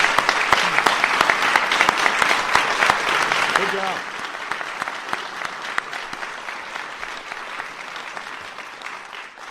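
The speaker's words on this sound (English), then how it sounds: "So give them a big round of applause." Audience applause for the state and national Teachers of the Year at the White House, loud dense clapping that thins after a few seconds, with a voice briefly speaking over it.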